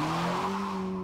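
A 2012 Honda Civic Si Coupe engine pulls hard under acceleration, a steady loud droning tone with a clear harmonic whine that holds through the short burst, no voices.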